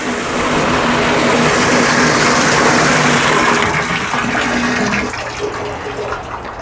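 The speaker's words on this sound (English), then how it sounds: "I pump it round using Caravan pumps, shower pumps" Collected rainwater pushed through an allotment watering setup by a solar-powered 12v caravan shower pump, a steady loud rushing water flow with a faint whine that eases off near the end.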